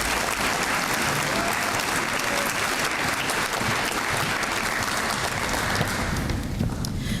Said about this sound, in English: give our students and our staff one more big round of applause